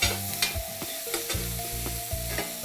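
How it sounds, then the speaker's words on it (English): Onions frying in a pan alongside potatoes and other vegetables give a steady, close sizzle with crackles, over a rhythmic low pulsing hum from something nearby, no speech. "I'll start by adding my onions"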